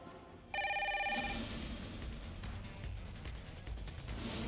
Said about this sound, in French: Madame, le téléphone sonne tout le temps.